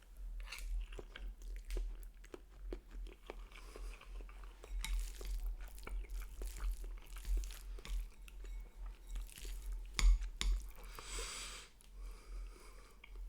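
Someone eats hot Nissin beef instant noodles up close, with slurps, chewing, sniffs and occasional clinks of utensils against a bowl, with no talk.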